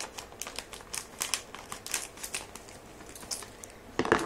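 Scissors snip and crinkle through the plastic packaging of a Popin Cookin gummy candy kit, a run of close, crisp cuts and rustles with a louder crackle near the end.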